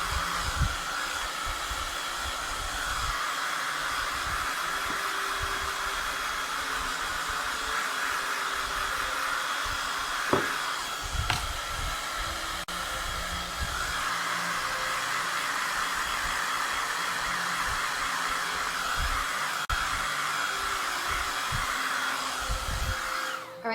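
Hair dryer blowing steadily on craft snow paste on a farmhouse Christmas scene, a continuous loud whooshing roar, close up, with brief handling bumps and a slight change in tone midway.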